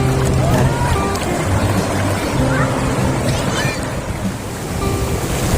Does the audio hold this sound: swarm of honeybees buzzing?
no